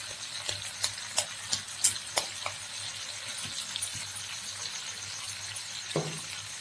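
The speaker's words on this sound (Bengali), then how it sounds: "ভালো করে নাড়াচাড়া করে নিচ্ছি।" Fried rice with tomato sauce being stirred in a frying pan: scattered scraping clinks and taps of the spatula over a faint steady sizzle, moderately close, no talking.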